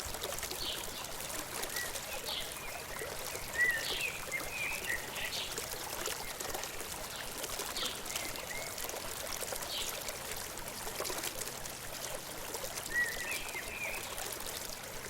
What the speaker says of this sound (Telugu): వాటర్ అయితే మనకు రన్నింగ్లో ఉంది.